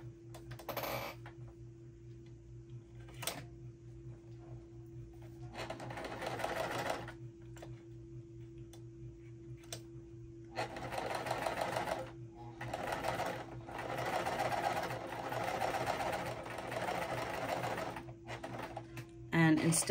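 A sewing machine runs in several bursts of rapid stitching as two die-cut cotton fabric pieces are sewn together at once, with quiet pauses between runs and a steady low hum underneath.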